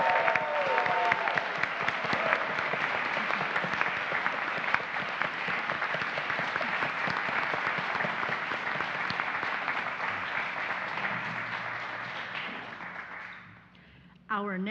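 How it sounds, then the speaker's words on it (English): A Unitarian Universalist congregation in Fresno applauds its newest members, sustained dense clapping filling the room for about fourteen seconds before it tapers off abruptly. "let us offer our warm applause to the newest members of the Unitarian Universalist Church of Fresno"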